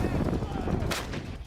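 A cannon fires in wartime Ukraine, giving a loud, dense blast that rumbles and rolls on for over a second, a burst of noise without any voice over it.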